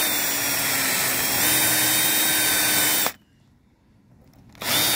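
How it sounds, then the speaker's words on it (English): A power drill whines loudly and continuously while drilling out eighth-inch rivets on a Mustang convertible, stops briefly, then starts again close by. "Drilling rivets out."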